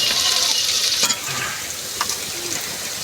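Onions fry in oil in a pan, giving a bright hissing sizzle that is strongest at first and then settles, broken by a couple of spoon scrapes and clinks, with no speech.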